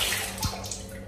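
Cold water flows around a grave inside an underground crypt at the shrine of Sayyid Abu Khamra, a close, steady rushing splash with gurgling bursts, heard alone without speech.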